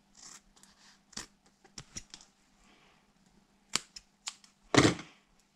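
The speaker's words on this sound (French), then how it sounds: "Un petit coup de ciseau pour faire propre." Scissors snip tape wrapped on a hard fishing lure, a series of sharp, close metallic clicks spaced irregularly, ending with a louder crunchy cut in an otherwise quiet room.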